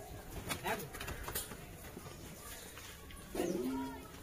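Pigeons released from a loft coo softly in a few low, throaty phrases, with a clearer coo near the end, mixed with faint rustling and background noise.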